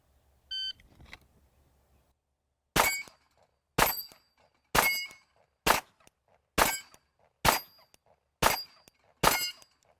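Pistol shots fired one-handed at targets, eight sharp loud reports spaced about a second apart, following a short beep, with no talk over them.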